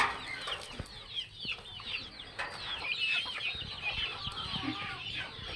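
Chickens cluck and chatter nearby in a continuous, busy flock, with scattered sharper calls over a rustling farmyard background.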